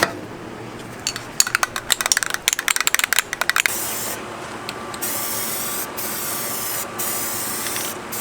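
A spray gun shoots paint onto car trim on an Integra in rapid bursts of hissing spray, then a longer steady hiss with a few short pauses, close and fairly loud.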